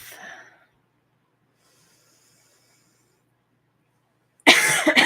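One loud, close cough bursts out at the very end during a quiet guided meditation, after a soft breath and a long near-silent pause.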